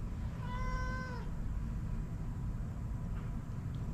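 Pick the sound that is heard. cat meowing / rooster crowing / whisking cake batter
cat meowing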